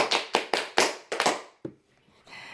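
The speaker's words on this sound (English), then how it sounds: "that was a special round of applause for all of you" A single person clapping hands in a rhythmic pattern, five or six sharp, close claps in quick succession followed by one more after a short pause, then near silence.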